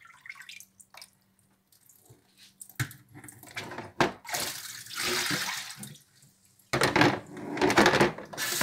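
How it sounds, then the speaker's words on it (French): Running tap water splashes as kidneys are rinsed in a kitchen sink, starting faintly and swelling into a steady, close rush of flow with brief pauses and clatter between bursts. "maintenant, là, je vais rincer mes rognons"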